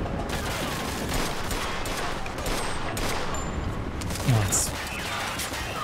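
Gunfire from the Mafia 2 Definitive Edition video game, dense rapid shots blending into a continuous rattling burst with a short louder thump near the end, heard under game dialogue.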